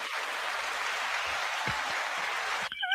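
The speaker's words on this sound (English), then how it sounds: "we can give you an applause" A short burst of crowd applause plays as a sound effect on a talk show, a steady wash of clapping that stops abruptly near the end.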